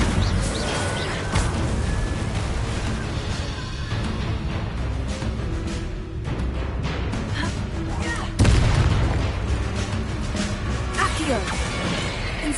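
An Incendio fire spell cast in Hogwarts Legacy, heard among a dense mix of whooshes, crashes and booms from game combat, with one especially loud burst partway through.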